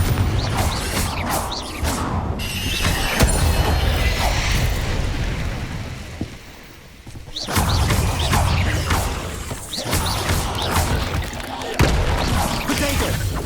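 Confringo blasting spells exploding in the video game Hogwarts Legacy, a series of loud booming blasts and crashes with game effects, briefly quieter midway before the bursts resume.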